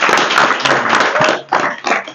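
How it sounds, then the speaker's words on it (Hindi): A crowd at a political rally in Bodh Gaya claps together in a loud, dense burst that dips briefly before flaring up again. "उसके लिए सारे लोग ताली बजाइए।"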